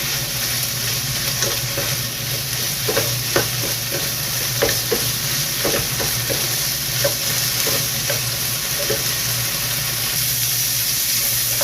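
Pork and onion frying in a pan, a steady close sizzle of hot oil with occasional scrapes and stirring clicks of a utensil.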